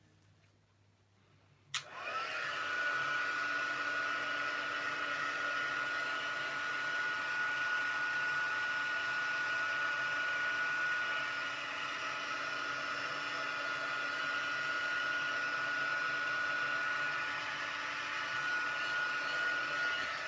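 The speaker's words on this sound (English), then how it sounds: "let's get the heat tool out and give this a whirl" A heat tool switches on with a click and blows a steady, loud whooshing hiss over embossing powder, holding a constant airy roar with a faint whine until the end.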